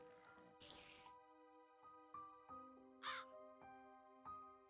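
Crows from the Minecraft Alex's Mobs mod, 1.18.2 Forge, caw in a few harsh bursts over a backdrop of sustained musical tones and soft plucked notes, fairly quiet overall.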